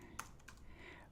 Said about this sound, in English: And I am having trouble typing.